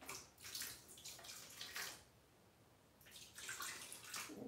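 Water pours in two bursts onto hand-dyed yarn, a soft splashing trickle that stops, pauses, then resumes, faint and close with no talk.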